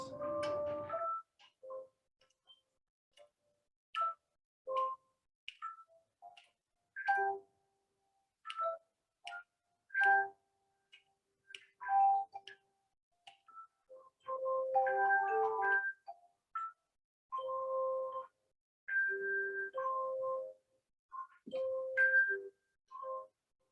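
An elementary school handbell choir rings out in scattered single strikes and small chords, clear and resonant with short silences between, building to fuller clusters later.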